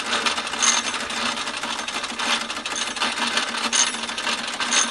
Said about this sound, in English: running the back wheels with that usual Wilesco rattle to the gears